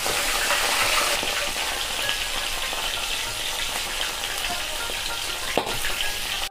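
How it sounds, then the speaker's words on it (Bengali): Pieces of mrigal fish, three at a time, frying in hot oil for a Bengali fish curry with Malabar spinach, giving a steady, dense, close sizzle that holds throughout with small crackles and no voices. "আমি এবারে মাছটা দিয়ে দেবো। আমি 3 পিস করে বন্ধুরা ভেজে নেব।"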